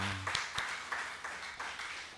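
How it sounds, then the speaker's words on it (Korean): A church congregation applauding during a Sunday worship service, heard as a rhythmic run of sharp, evenly spaced claps at a moderate level, with a brief low tone fading at the start. "하나님께 영광의 박수 올려드리겠습니다."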